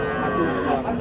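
A pregnant two-tooth cow at a cattle market in Pabna lets out one sustained, loud, nearby moo that holds for the whole moment over a low market background.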